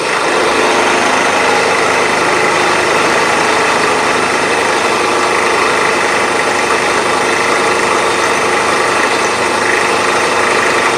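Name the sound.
machine tool machining tool holder blocks at 1500 RPM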